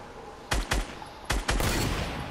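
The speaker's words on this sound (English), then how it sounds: "I'm getting shot at." Sharp gunshots ring out in Fortnite: two quick cracks, a short pause, then two more, the last trailing into a sustained burst of noise; close and loud with no talking.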